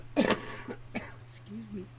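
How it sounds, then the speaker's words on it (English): A couple of short, sharp coughs or throat clears close by, followed by a faint hum and a soft murmur. "I still have a little bit of a cough, and I cough"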